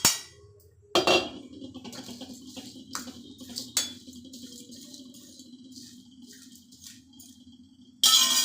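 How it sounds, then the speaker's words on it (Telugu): Cooled, dry-roasted spice powder for amla rasam is pounded by hand, heard as a few sharp, irregular knocks and clanks spaced over several seconds, close and fairly loud over a low steady hum. "చల్లారిన పొడి కొడదామండి"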